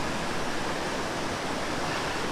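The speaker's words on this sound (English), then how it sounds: "the water's just rushing down over these rocks" Loud, steady roar of Smalley Falls rushing and crashing over rocks in an enclosed gorge, a dense continuous wash of noise close by with no voices.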